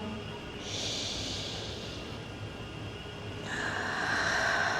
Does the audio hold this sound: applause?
no